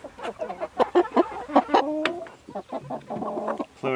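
Pasture-raised chickens cluck and squawk close by in a busy, overlapping chorus of short calls with little pause between them.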